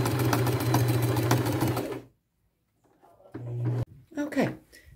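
A sewing machine runs steadily while stitching a narrow seam on an old coat, a loud, close, rapid mechanical hum that stops abruptly, then returns in a short burst, followed by faint handling clatter.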